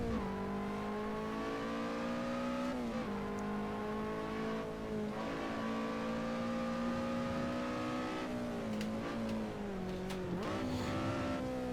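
A Lotus Elise's engine drones loudly and continuously on the Nordschleife in Assetto Corsa, pitch climbing steadily and then dropping sharply at several gear shifts or lifts.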